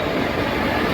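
The Koyna Express pulling in at platform 3 of a railway station makes a continuous loud rumble of rolling wagons and wheels, close by and without talk.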